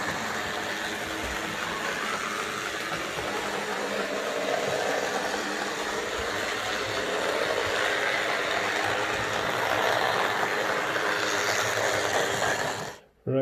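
A Hornby R055 Class 4P 2-6-4T model locomotive in LMS maroon livery runs faster, with a continuous close whirring motor and wheel hum that holds steady before cutting off abruptly at the end.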